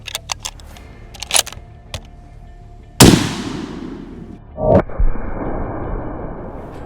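A single loud .30-06 rifle shot firing a soft point round outdoors, a sharp crack with a long decaying echo, preceded by small clicks and handling noises and followed by a second rustling burst.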